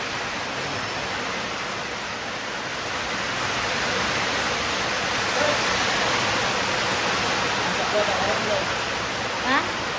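Rainwater rushes steadily through a drain, a loud, unbroken roar like runoff pouring through a channel, continuous throughout.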